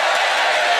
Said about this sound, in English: And a hearty cheer for Bill Bailey